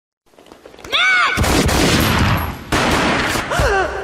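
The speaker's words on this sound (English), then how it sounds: "A gunshot boomed and she fell down in slow motion." Gunfire in the Max Payne video game bursts out in loud, close, rapid volleys of booming shots, with a short pause between two heavy barrages.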